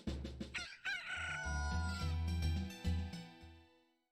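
A rooster crows in The Legend of Zelda: Majora's Mask, a loud, near cock-a-doodle-doo sounding clearly over a couple of seconds of the game's audio, with no voices.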